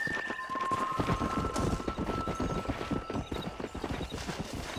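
Horse hooves gallop in Red Dead Redemption, a fast, dense run of clip-clop beats close up and loud, with a faint whinny and steady game ambience underneath.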